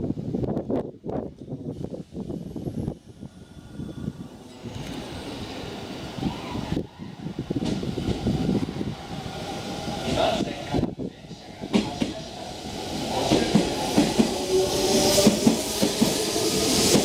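Hanshin local train bound for Higashi-Ikoma at Amagasaki station, with brake hiss and clunks as it stops, then a rising motor whine and wheel clatter as it departs, loud and close, with a platform announcement over it.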